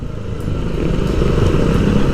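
A motorcycle engine is revved with the throttle, a loud, close, rough mechanical drone that builds slightly in intensity over a couple of seconds with no talking.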